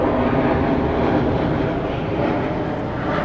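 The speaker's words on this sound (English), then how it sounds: "And a plane." A passenger airplane flies overhead in Sofia, Bulgaria, a loud, steady broadband engine roar with no talking over it.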